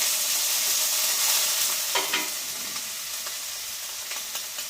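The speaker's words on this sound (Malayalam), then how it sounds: "സവാള അരിഞ്ഞിട്ട് കൊടുക്കുകയാണ്. പച്ചമുളക് എല്ലാം കൂടെ ഒന്ന് വഴറ്റി കൊടുക്കാം." Chopped onion and green chillies sautéing in hot oil in a small home-kitchen pan, a soft steady sizzle with a few scraping stirs, no voices.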